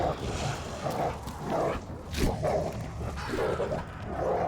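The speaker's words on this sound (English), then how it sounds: "That's a dog." A zombie dog in Call of Duty Zombies on the Die Maschine map gives repeated yipping barks and whimpers at mid distance, set against steady game noise.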